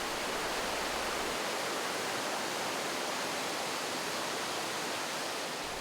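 Water from a mountain valley stream on the slopes of Taebaeksan rushes steadily in a dense, continuous broadband wash, loud and close, with no voices.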